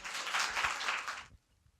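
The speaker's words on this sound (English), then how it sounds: "Everybody give another round of applause for Bethany Blackmer coming back to the mic." An audience at a poetry recitation competition gives a round of applause, a dense burst of clapping that holds for over a second and then cuts off into quiet.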